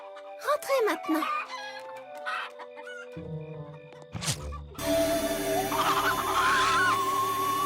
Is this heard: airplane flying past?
no